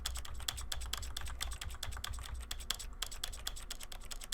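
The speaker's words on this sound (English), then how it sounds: "You can probably hear every time I'm hitting my keyboard." A computer keyboard being typed on close to the microphone, with rapid, irregular clacking keystrokes that continue steadily throughout and include a brief pause near the middle.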